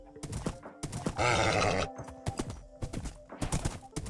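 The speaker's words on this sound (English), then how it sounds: "We tame a horse, and now I can put saddle on him." A Minecraft horse clip-clops in quick uneven hoof taps and gives one drawn-out whinny in the middle, close and clear, with no voices.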